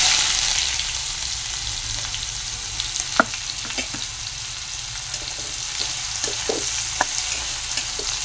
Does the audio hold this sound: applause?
no